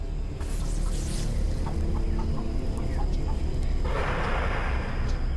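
Chickens clucking and murmuring in a busy coop, with steady overlapping calls and a rustling, noisy background throughout.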